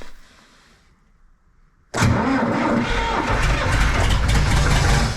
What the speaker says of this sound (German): Den Deutz-Start klar machen, erstmal vorglühen